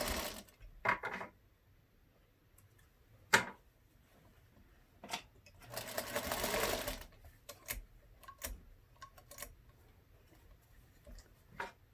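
Sewing machine making a few short stitching bursts through fabric for a collage hat, with a longer run near the middle and quiet clicks and ticks between, close and moderately loud.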